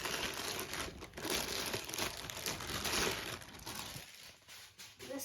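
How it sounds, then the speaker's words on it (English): A mini sewing machine is pulled out of crinkling wrapping paper in a close, continuous rustle of crumpling paper that fades near the end, with no talk. "Now let's get the sewing machine out of the wrapping paper."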